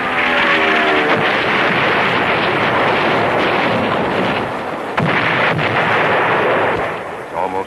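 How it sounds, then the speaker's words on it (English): Heavy WWII anti-aircraft gunfire from 40 millimeter guns firing tracers toward a beach, a dense continuous roar of shots and blasts with wind buffeting throughout, loud and sustained. "The 40 millimeters let loose, the tracers pointing the accurate marksmanship."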